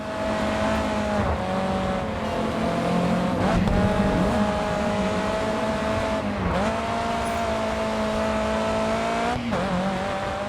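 A Mercedes race car in the video game GRiD 2 roars with a sustained loud engine note that holds steady, dipping briefly at gear shifts and then climbing again, with faint tire noise underneath.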